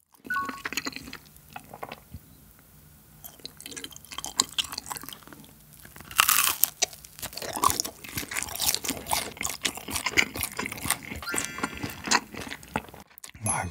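Crunchy chewing of a fried rice cake topped with cheese, close and crisp with repeated bites and wet mouth sounds, louder crunching in the second half.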